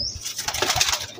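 Pigeons flap their wings in quick, rustling bursts close by, with a few soft coos mixed in.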